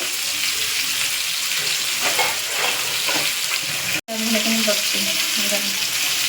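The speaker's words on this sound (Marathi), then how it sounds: "टमाटर आणि ही ओलपात ओलपातीचाच कांदा घेतलेला आहे मी आणि हे फ्राय करून ठेवते" Spring onion and tomato frying in a pan, a steady close sizzle with stirring scrapes, running continuously except for a brief cut near the end.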